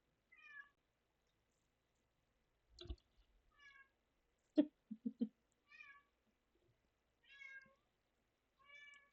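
A cat meows repeatedly, about six separate clear mews spaced a second or so apart, close and fairly quiet, with a few soft thumps and rustles between them.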